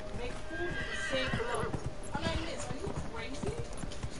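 A horse whinnies amid clip-clopping hooves, with voices talking over a busy game-like soundscape in Dragon Age: Inquisition.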